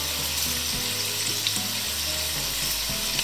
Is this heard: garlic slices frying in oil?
yes